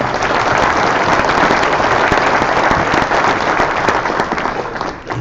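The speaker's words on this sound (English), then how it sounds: "How about another round of applause for all our nominees and winners tonight?" A large audience claps steadily at a high school sports awards ceremony, a dense, even wash of applause that holds loud throughout and dips slightly at the end.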